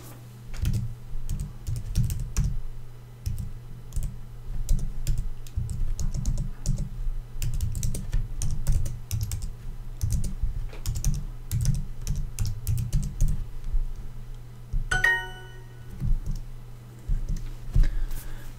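Steady typing on a computer keyboard while entering English-Turkish text, with rapid uneven key clicks running throughout under a low constant hum and a brief tonal blip near the end; no talk.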